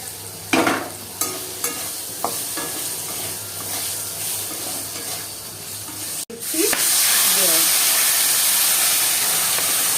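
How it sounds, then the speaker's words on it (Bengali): Potatoes are tipped into spices frying in a pan, a few clinks and stirs giving way to a loud, continuous sizzle and hiss close by. "মশলার মধ্যে আলুটা দিয়ে দিলাম"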